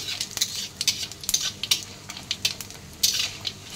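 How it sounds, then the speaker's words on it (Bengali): Nigella seeds hit hot oil in a pan while cooking green pumpkin leaf curry, giving a light crackling sizzle with sharp clinks and scrapes of a spoon stirring against the pan. "চলো এবার তার মধ্যে দিয়ে দিলাম কালো জিরা ফোড়ন"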